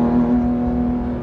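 A Porsche 991.2 GT3 with a manual gearbox, its engine holding a loud, steady high-revving tone heard from inside the car, briefly and without talk.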